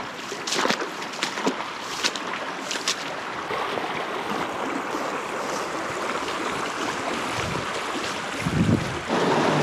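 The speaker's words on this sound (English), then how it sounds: "There's a little cascades here." Small water cascade tumbling through a canyon creek in the Superstition Wilderness, a steady broadband rush of flowing water with wind buffeting the microphone, continuous and close, with no talking.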